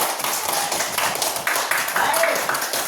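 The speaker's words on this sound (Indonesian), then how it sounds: "Berikan tepuk tangan untuk kita semuanya." Students in a third-grade classroom clap their hands together after group presentations, a dense, steady patter of many small hands at close range, with voices mixed in underneath.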